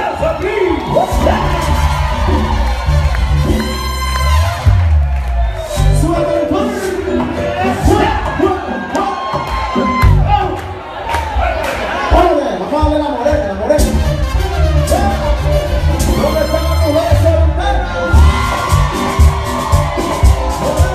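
A crowd at a live Latin music reunion concert cheers and whoops loudly over ongoing music with a driving beat, voices shouting throughout, with clapping hard to pick out beneath the dense mix.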